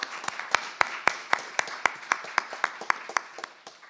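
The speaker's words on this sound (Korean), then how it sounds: "우리 박수로 우리 축복하도록 하겠습니다." In a church service, the congregation claps in a slow, even rhythm of sharp claps close to the microphone, with the pattern fading slightly toward the end.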